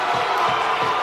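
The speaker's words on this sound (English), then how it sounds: "Crowd going wild." Crowd cheering at a sumo championship, a loud, dense roar of voices filling the whole second with steady broadband noise and faint low thumps underneath.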